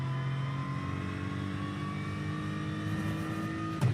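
A GT3 race car engine in the iRacing simulator drones at a steady high pitch, holding its revs with a rich harmonic whine, and a brief thump near the end.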